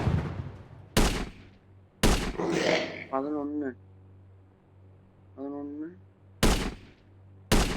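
Sniper rifle shots ring out in a video game, four loud sharp blasts spread across the stretch, mixed with a voice calling out numbers.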